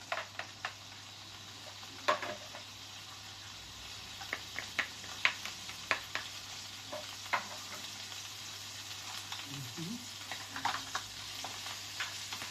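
Onion and garlic sizzling in hot cooking oil for kaldereta, a soft steady frying hiss broken by scattered stirring clicks and scrapes, with no one speaking.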